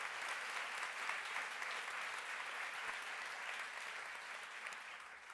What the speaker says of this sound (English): round of applause for sure